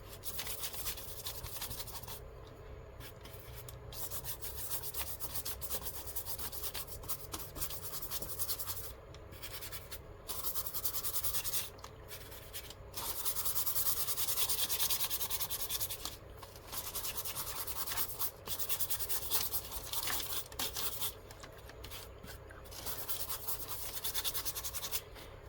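A dry brush scrubs gesso paint across journal paper in steady, close rubbing strokes that run continuously with short pauses, fairly loud and scratchy, with no talk over it.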